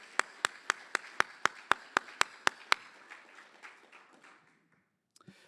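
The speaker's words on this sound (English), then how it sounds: "So big round of applause for our main sponsor" Applause at a veterans' banquet for the main sponsor opens with about eleven sharp, evenly spaced claps close by, then thins into faint scattered clapping that dies away to near silence.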